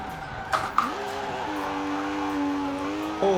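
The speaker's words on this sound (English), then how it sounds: "This thing revs out so quick when you handbrake." Group B rally car in Forza Horizon 4 revving hard through a handbrake turn, engine pitch dropping and climbing again with a couple of sharp clunks early on, the revs then holding in a steady whining drone.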